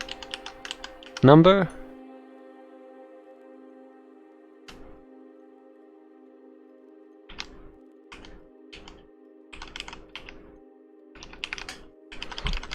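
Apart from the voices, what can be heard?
typing on a computer keyboard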